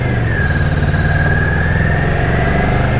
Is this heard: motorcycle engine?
yes